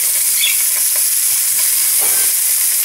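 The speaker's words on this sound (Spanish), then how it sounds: "ahora voy a agregar los chiles. Los voy a freír a fuego bajo" Chiles rellenos with bacon frying in a pan over low heat give a steady, close sizzle with faint scattered pops and crackles; no talking.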